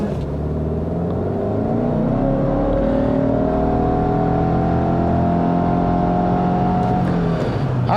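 A 2024 Subaru Outback Touring XT with its turbocharged engine launches from a brake-torqued standstill for a 0 to 60 run, the loud engine note climbing steadily, then shifting near the end, with no talk.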